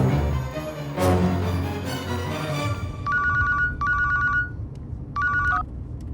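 A telephone bell rings in three short, bright bursts with brief pauses between them, clear and close, after a few seconds of quieter background sound.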